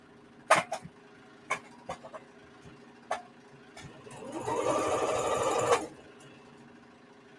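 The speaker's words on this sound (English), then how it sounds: "I think I'm gonna need a new foot pedal on my sewing machine." A domestic sewing machine with a worn foot pedal, a few short clicks and taps, then one steady whirring run of stitching lasting under two seconds before it stops.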